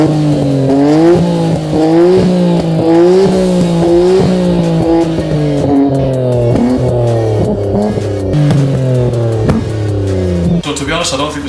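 Loud Nissan Skyline R34 GT-R exhaust roaring and revving in rising and falling pulses, with crackles and pops between throttle changes.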